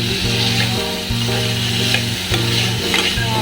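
Pieces of pointed gourd (potol) fry loudly in hot oil, a constant close sizzle with rhythmic scraping strokes of a spatula stirring them in the pan.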